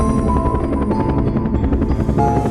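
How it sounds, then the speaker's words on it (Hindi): A loud, continuous cartoon helicopter rotor chop, as the helicopter lands, with a rapid, pulsing beat dominates throughout, close and unbroken. "हेलीकॉप्टर की आवाज सुनकर"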